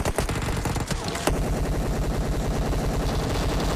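Dense, rapid automatic gunfire from a machine gun in BGMI's zombie survival mode, a loud continuous rattle of shots with a sharper burst partway through, no talking over it.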